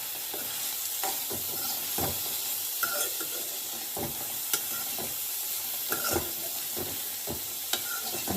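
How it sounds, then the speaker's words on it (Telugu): Washed coconut pieces fry in oil for Andhra-style coconut chutney, giving a continuous close sizzle broken by irregular clicks and scrapes as they are stirred around the pan. "కొబ్బరి అందులో వేయించి అదే నూనెలో కొంతవరకు వేయించుకోవాలి"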